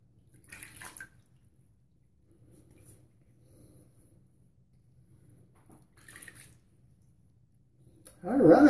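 Water rinses shaving soap off after a straight razor shave. Faint, sparse splashes and trickles are separated by quiet gaps before a louder burst of running water at the end.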